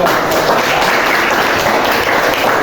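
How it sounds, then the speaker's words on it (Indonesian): Classroom audience applause at an Islamic university teaching session, a loud, dense burst of clapping that continues steadily and close by for the whole short stretch. "Masuk tepuk tangan untuk kehadiran."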